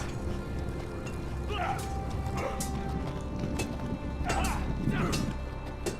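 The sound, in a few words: horse hooves clip-clopping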